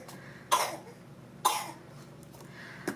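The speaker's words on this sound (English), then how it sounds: "Oh, his poor cough." A child coughs twice, sharp and hoarse, about a second apart, with a faint third cough at the end against quiet room noise.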